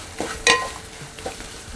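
A curd mixture for paneer bhurji cooks in a pan with a soft, low sizzle, broken by a few short scrapes and clinks of the spoon as it is stirred.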